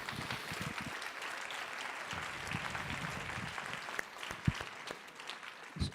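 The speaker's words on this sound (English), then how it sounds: "Give your neighbor a round of applause" An audience at a presidential gun-safety forum gives a round of applause, a steady crowd clapping that thins slightly toward the end with a few sharper claps standing out.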